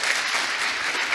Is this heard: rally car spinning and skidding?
no